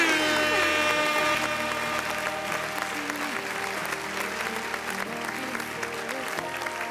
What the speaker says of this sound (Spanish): Un aplauso, que vivan los esposos.